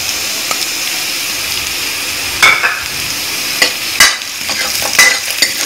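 Onions, ginger and green chili for sooji upma fry in a pan, a loud continuous sizzle with repeated spoon scrapes and clinks at irregular intervals, close up and without voices.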